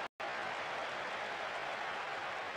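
A video game football crowd in PES 2014 cheers after a missed header, a steady, broad wash of applause and crowd noise that starts after a short gap and holds at a moderate level.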